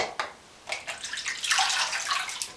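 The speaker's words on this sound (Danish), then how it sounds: "Og så skyller jeg også ansigtet" Lukewarm water splashes as a face is rinsed after a galvanic spa treatment, a run of close watery splashes and trickles building to a fuller wash near the end.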